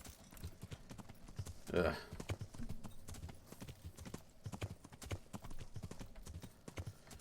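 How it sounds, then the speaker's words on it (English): Horse hooves clip-clop in a steady trotting rhythm in the medieval game Kingdom Come: Deliverance, mid-loud, with a brief grunt from a voice partway through. "I whistled for my horse anyway."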